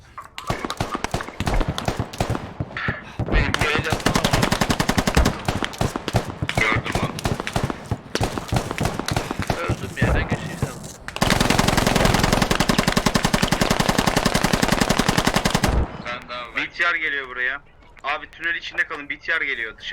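Loud, dense gunfire from the video game Squad, with rapid automatic bursts and overlapping shots nearly throughout; a voice speaks over the quieter final stretch.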